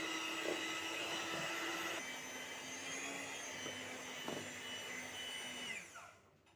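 An electric beater whips a mixture with icing sugar, a loud steady motor whine close by that shifts pitch slightly as it works and then winds down at the end.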